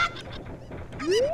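Video game chickens cluck and squawk in short bursts, ending with a rising squawk, fairly close and clear with no voices.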